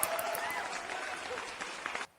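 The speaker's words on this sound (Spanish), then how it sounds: "Otros aplausos." Audience applause rises at a meetup conversation with a guest, a continuous wash of clapping with a voice speaking over it, then cutting off abruptly near the end.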